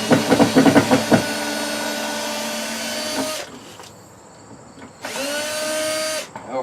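A power drill loosens a screw on wooden hen nests, opening with rattling clatter, then a sustained whine that stops, and after a short pause a second shorter run, loud and close with no talk.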